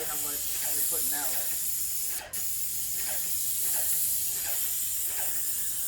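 A small airless paint sprayer lays down a first coat indoors, its steady, fairly loud hiss running throughout while a person talks over it.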